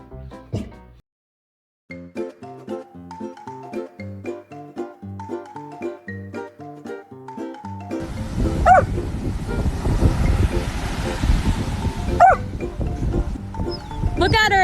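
A dog barks repeatedly in lively bursts, close and loud, with a person talking and music throughout; the barking grows busier and noisier in the second half.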